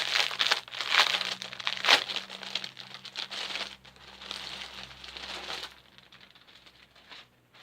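Crinkling plastic and paper packaging as a Ciné Réplica Harry Potter collectible is unwrapped and opened, with close, irregular rustles and tearing bursts that fade near the end.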